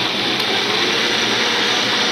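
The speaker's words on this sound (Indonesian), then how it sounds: "Ini kita blender sampai halus." A kitchen blender runs continuously, whirring loudly and steadily as it purees ingredients for kue mangkok steamed cakes, with no talk over it.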